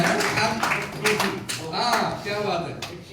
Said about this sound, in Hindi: तो एक बार नीतू जिंदल दीदी के लिए भी तालियां हो जाए